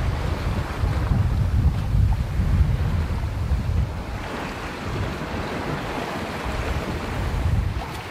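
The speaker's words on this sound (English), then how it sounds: "all you hear is that awesome sound. Just the water passing by." Water rushing steadily past the hull of a sailboat under sail on open ocean, a continuous close wash and surf-like hiss with gusty wind buffeting the microphone, no voices.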